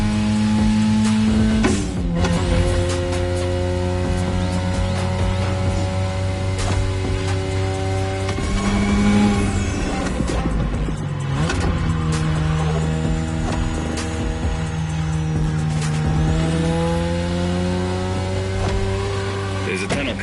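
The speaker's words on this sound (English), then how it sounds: "Tonight your ride is a 3rd Gen 2002 Mazda RX-7. Lightweight, compact, a sick rotary engine, and one hell of a look." A 3rd-gen 2002 Mazda RX-7 with a rotary engine driving in The Crew Motorfest, its engine note rising through gears with sharp shifts and tire squeal, steady and loud over most of the run.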